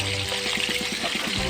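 Talakitok fish frying in hot oil, a steady close crackling sizzle with small popping bursts, no voices.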